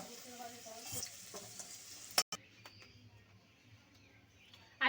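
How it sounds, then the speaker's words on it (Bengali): Potato pieces frying in a pan with a little turmeric, a steady soft sizzle with intermittent stirring and scraping clatter, a sharp clank near the middle, fairly close and without talk. "আলুর সঙ্গে মিশিয়ে নেব আর আলুটা একটু লালচে করে ভেজে নেব।"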